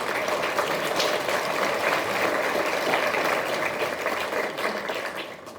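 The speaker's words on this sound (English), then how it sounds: "So please give them a round of applause too." Graduation ceremony audience applauding, a dense, steady wash of clapping from a large crowd that holds throughout and tapers slightly at the end, with no talk over it.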